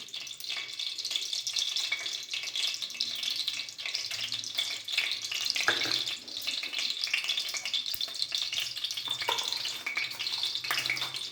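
Rice fries in equal parts oil and ghee for chicken biryani, giving a steady, dense sizzle close up, with occasional stirring scrapes and clinks of utensils against the pot throughout.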